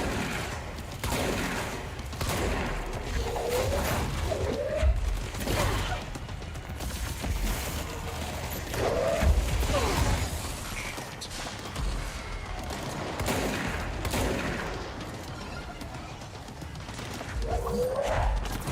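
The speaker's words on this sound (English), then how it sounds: "That shotgun sounds just like generic gunshot MP3" Shotgun blasts in the video game Control, several sharp booming shots spaced irregularly with mechanical clacks and whooshes between them, loud and close.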